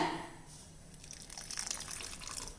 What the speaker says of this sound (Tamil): அதனால் வந்து இன்னும் கொஞ்சம் தண்ணி விட்டுக்கலாங்க